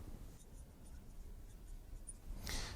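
A pen or marker scratches and taps steadily across a writing surface while an expression is written out by hand, a faint, close, continuous scribbling with no talk.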